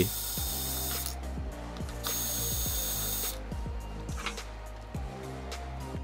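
Mounting bracket screws are backed out of a motherboard's CPU cooler mount during a budget AMD Ryzen 5600G PC build, giving a close, rhythmic series of sharp ratcheting clicks in repeated bursts with brief pauses.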